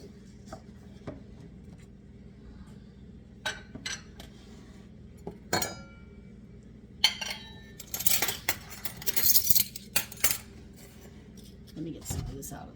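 Metal spoon clinking against a bowl while mixing blueberry scone dough, a run of sharp, close taps and scrapes that cluster and grow busier toward the end over a low room hum.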